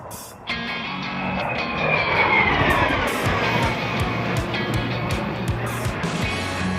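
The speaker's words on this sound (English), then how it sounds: "the real Gripen arrived" A Saab Gripen fighter jet arrives over a Czech Air Force Base during a family day, its engine roar swelling and sweeping through a falling pitch, loud and sustained, then settling into a steady rumble with some background noise.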